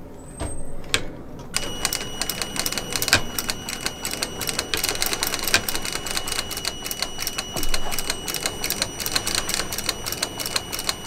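A sewing machine with a compound feed runs steadily while stitching a leather bag. The needle hammers in a fast, even rhythm, close up and fairly loud, with a brief pause at the start and no voices.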